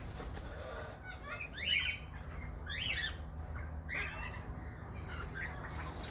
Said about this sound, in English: More kingies. King parrots.